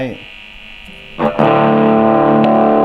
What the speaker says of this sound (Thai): เปิดโอเวอร์ไดร